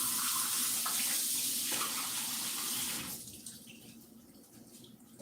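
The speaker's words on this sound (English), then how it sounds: "I just push the tab and the spring water comes right out." Spring water rushing from the tab of a countertop jug into a measuring cup, a loud steady pour for about three seconds that then tapers to a quieter trickle and stops.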